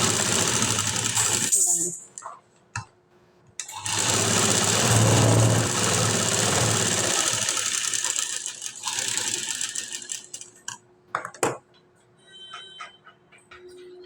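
A sewing machine stitching a high-neck, back-open blouse with potli buttons whirs in close bursts, stopping and restarting, with brief spoken remarks between runs.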